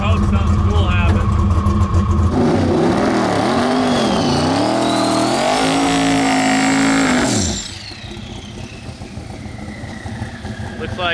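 A drag race car launches hard off the starting line with its engine roaring loud and close, the pitch wavering and climbing for several seconds before it cuts away and leaves quieter background noise.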